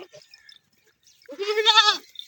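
A black desi goat in a Punjab village gives one close, loud, wavering bleat after a few quiet moments with faint soft noises.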